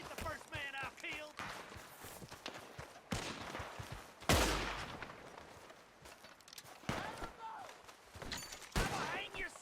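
Gunfire in the Red Dead Redemption 2 video game, several sharp shots and bursts spread through a tense exchange, with a loud blast near the middle, mixed with voices talking and shouting.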